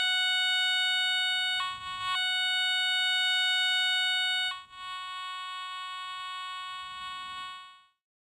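A Garrett Recon Pro metal detector sounds a loud, steady electronic threshold tone that shifts pitch a few times, briefly breaking, before cutting off at the end.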